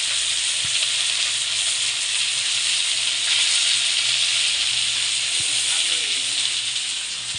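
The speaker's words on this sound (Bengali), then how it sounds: "বাবা কাঁকড়া ভাজছে, দেখো।" Crab frying in a pan gives a loud, steady sizzle and hiss of hot oil that runs unbroken, with a couple of faint clicks and a voice briefly in the background.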